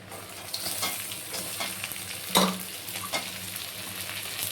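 Onions, garlic, ginger and dried chili sizzle steadily in hot oil for a tarka dal, with a spatula stirring and scraping the pan now and then and one sharper clatter midway.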